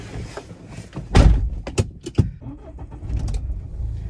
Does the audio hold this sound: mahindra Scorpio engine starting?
yes